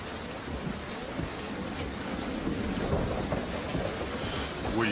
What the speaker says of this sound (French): La tempête est sur cette île, nulle part ailleurs.